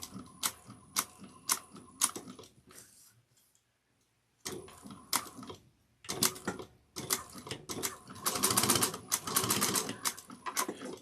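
A sewing machine topstitches fabric at 1/8 inch in rapid mechanical ticking bursts, stopping and starting with short silent pauses in between, close and clear with no speech.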